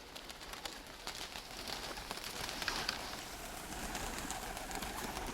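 Pigeons cooing in a loft on a spring day, soft low coos and bird sounds under a steady hiss of outdoor noise, faint and continuous with no speech.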